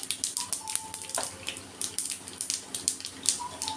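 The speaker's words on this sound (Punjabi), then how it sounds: "ਸਰੋਂ ਜਿਹੜੀ ਇਹ ਦੇਖੋ ਆਪਣੀ ਤੜਕਣ ਲੱਗ ਪਈ ਆ" Rapid, irregular crackling and popping of mustard and cumin seeds in hot oil, close and steady throughout, with faint tonal hums in the background.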